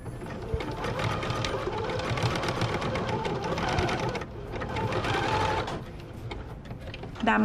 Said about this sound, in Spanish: lo solapemos con la misma puntada de zigzag que ya tenemos